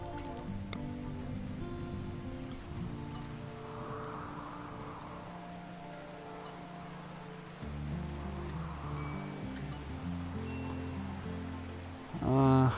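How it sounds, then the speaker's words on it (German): Steady soft rain falls in the colony game RimWorld, a faint continuous patter beneath layered background music, with a louder thump right at the end. "Ah, da ist der Regen."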